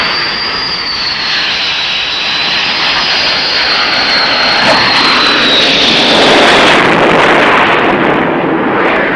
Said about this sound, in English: The first time would be a touch-and-go landing without the tail hook.